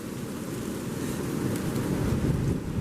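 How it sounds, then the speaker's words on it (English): Strong wind gusts through snowy woods, a broad roaring rush that swells steadily louder, buffeting the microphone with no voices over it. "Oh dear, here comes the wind."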